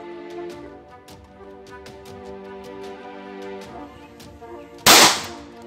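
9mm pistol firing a CBC NTA 124-grain round in a penetration test: a single loud, sharp shot bursts out near the end, following a stretch of quiet background with faint clicks.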